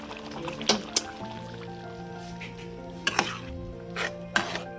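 Spoon stirring a thick pea and potato puri curry in a pan with the stove off, with a few sharp scraping clinks against the metal spread across a quiet background.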